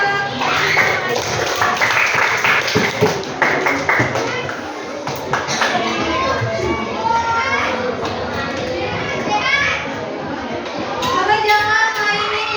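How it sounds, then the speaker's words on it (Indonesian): Children clapping and tapping irregularly at an indoor family gathering, mixed with chatter and kids' voices throughout, close and moderately loud. "Tepuk tangan"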